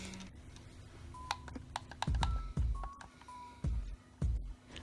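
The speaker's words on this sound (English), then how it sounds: "I love the clicky sound of the buttons." Buttons on a Nacon Revolution or Razer Raiju game controller click sharply, several separate presses at an uneven pace, close and crisp against quiet background hum.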